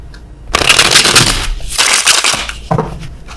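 Tarot cards are shuffled close up, with a loud, continuous papery riffle and rustle that surges and eases over a few seconds. No one speaks.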